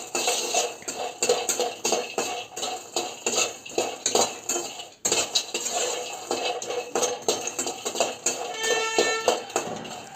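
Cashews and almonds fry in a pan while a spatula scrapes and clinks steadily against the metal, making a busy run of close tapping and scraping with a faint sizzle underneath.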